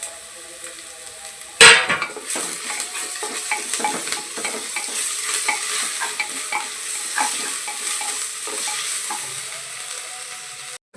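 Garlic and ginger being stirred in a pan for chicken curry: a sharp clank of a utensil at the start, then a continuous sizzle with repeated scraping strokes against the pan, close and steady.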